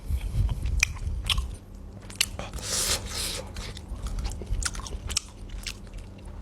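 Close, wet chewing and biting of meat while eating raw Thai soi ju beef, a steady run of crunchy, squishy bites and mouth sounds with no talking over it.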